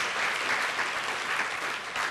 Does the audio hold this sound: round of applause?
yes